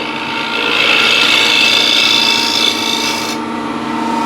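A scraper rasps steadily against crossgrain wood turning on a lathe, a loud, close, continuous scraping hiss lasting about three seconds before easing off.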